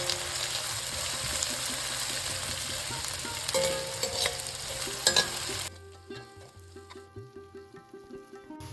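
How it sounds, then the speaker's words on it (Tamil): Onions sautéing with salt in a pan give a loud, continuous sizzle with stirring scrapes for about six seconds, then the frying drops abruptly to a quieter crackle with a run of rhythmic clinks. "வெங்காயம் பொன்னிறமாக ஆற வரைக்கும் வதக்கிக்கலாம்"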